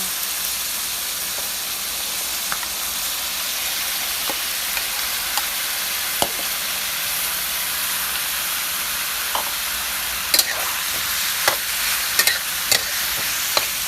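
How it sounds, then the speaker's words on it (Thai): Pickled bamboo shoots and chicken stir-fried in a pan with a steady low sizzle throughout, while a utensil scrapes and clinks in scattered, sharper hits toward the end. "ใส่หน่อไม้ดองลงไปเลยค่ะ"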